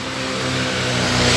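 Trucks driving past on a street near a fire station, a continuous broadband engine and road roar that swells slightly louder across a brief moment, with no talking.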